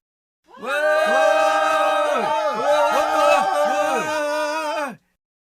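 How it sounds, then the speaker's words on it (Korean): A large crowd of high school students in black uniforms shouting together at a street intersection, a loud, sustained roar of many voices with rising and falling cries, starting abruptly and cutting off cleanly as a sound effect. "함성 소리가 사거리를 덮쳐왔다."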